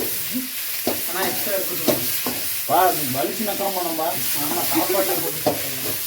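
Tomatoes sizzling on a dosa griddle, a steady bright hiss with sharp scraping stir strokes throughout, while someone talks over the cooking.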